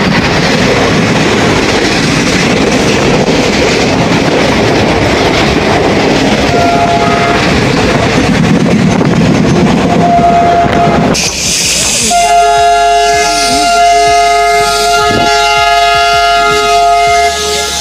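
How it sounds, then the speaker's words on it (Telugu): A passenger train at Rajpur station in Punjab, halted after someone pulled the emergency chain: a loud, steady rumble and clatter of rail cars, then quieter stillness pierced by a long, sustained horn or whistle tone near the end. "పంజాబ్ లోని రాజ్పూర్ స్టేషన్ లో కొంతమంది చైన్ లాగి ట్రైన్ ఆపేశారు."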